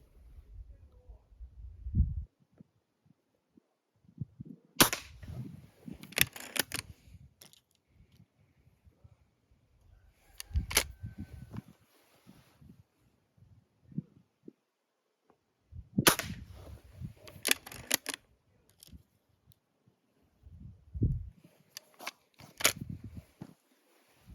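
IZh-38 air pistol fired at 10 metres, sharp dry snapping shots in separate clusters with handling clicks and mechanical rattling between them, fairly close and otherwise quiet.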